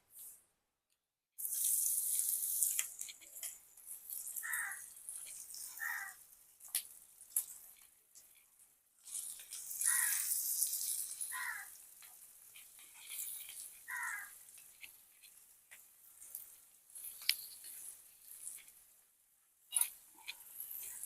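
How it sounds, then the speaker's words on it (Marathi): Okra sizzles and crackles in hot oil in a pan on a tawa, a close, bright frying hiss that swells and fades in bursts with gaps of quiet, crows cawing faintly in the background. "तेल इथे गरम झालंय, आता ह्याच्यामध्ये आपण भेंडी सोडूया."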